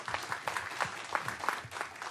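Audience applause breaks out at a council meeting, a brief burst of moderately loud clapping from a small crowd in a meeting room.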